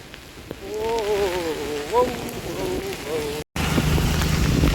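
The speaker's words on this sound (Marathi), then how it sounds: "अरे भयंकर पाऊस आहे हा, अतिशय भयंकर." Dense monsoon rain patters steadily throughout, a heavy hiss under a voice while riding home with low visibility, with a brief dropout before the downpour resumes loudly.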